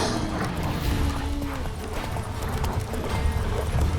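Roach, a horse in The Witcher 3 video game, gallops with fast rhythmic hoofbeats in steady clip-clop over game ambience, with a brief whinny near the start.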